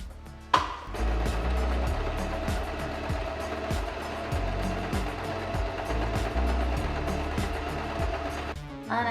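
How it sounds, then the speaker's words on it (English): A sewing machine runs a long continuous stitch through lace fabric panels, joining them into a tube: a rapid, even mechanical clatter of the needle up close, starting with a thump and stopping near the end. "we are going to sew the two extremes so it becomes a tube"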